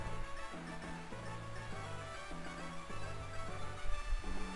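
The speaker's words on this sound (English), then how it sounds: "That was the call of a Regice." A Regice cry from Pokemon Emerald, a harsh electronic call mixed into steady, busy game music with repeating low notes, continuous and moderately loud throughout.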